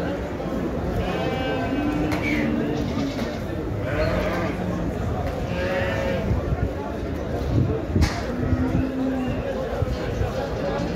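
Sheep bleat repeatedly from a flock of young barren ewes amid steady livestock market noise in Şarkışla, Turkey, several calls overlapping with people talking.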